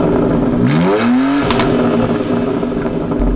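2020 BMW X3 M, 3-liter straight six, with the exhaust valve open in loud mode: one sharp rev climbs and cracks off, then a louder, rumbling idle close by.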